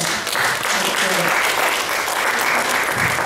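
Sustained, loud applause from the audience at a ceremony fills the whole stretch in a dense, even roar of many hands clapping together.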